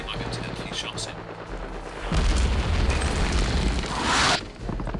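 Artillery shells boom and crash in a Normandy-set war video game. Heavy low explosions come one after another, with a louder blast rolling over the end, amid game noise and brief voices.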